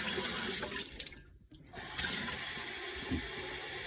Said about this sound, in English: So we gotta make sure there's some hot water in here.